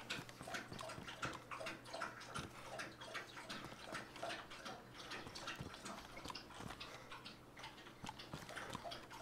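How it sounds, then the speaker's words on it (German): A dog lapping drinking water close by: a quiet, quick, regular series of wet slurping laps that continues steadily throughout. "wenn er da gerade was schlabbern hört, das ist mein Hund"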